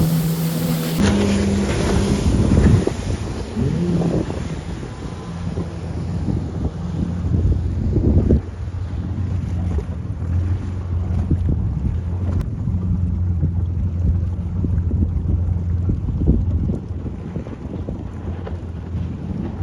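A jet ski rides across Lake Tahoe, its engine droning steadily under heavy buffeting wind noise, with the rush of water and spray around it; no one talks.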